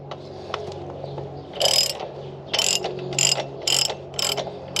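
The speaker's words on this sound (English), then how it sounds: "First thing we'll do is loosen up the nut." Ratchet wrench loosening the chain adjuster nut on a Triumph Thruxton RS motorcycle: about six bursts of rapid clicking, close and clear, separated by short pauses, with faint mechanical background between them.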